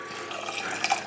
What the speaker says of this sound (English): I'm going to add 2 cups of broth or water.